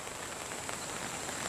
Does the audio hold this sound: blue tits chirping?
no